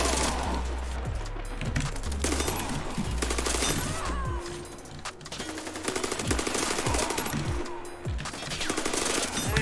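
Rapid bursts of SMG-45 submachine gun fire in a video game rattle in quick succession, loud and close, with brief pauses between volleys and occasional explosions in a busy battle.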